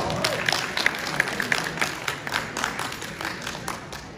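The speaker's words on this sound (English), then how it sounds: "So give a big round of applause." Applause from an audience at an interview or community event, moderate and somewhat distant, with scattered individual claps and murmuring voices mixed into a steady wash of clapping throughout.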